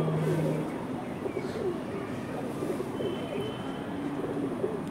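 Pigeon cooing nearby, soft repeated throaty coos over a low background hum, fairly quiet and with no talking.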